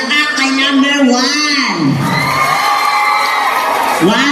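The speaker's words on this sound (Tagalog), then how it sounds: "Palakpak kay number 1." A festival crowd at a town-day celebration cheers and shouts for contestant number 1, with loud, overlapping whoops and children's voices rising and falling close by.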